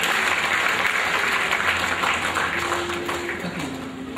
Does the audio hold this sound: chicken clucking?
no